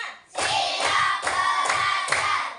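Five bursts of hand clapping in a steady rhythm from a class of children, each a quick flurry of claps, loud and close.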